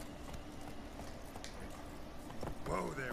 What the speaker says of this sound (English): Hey, wild horses.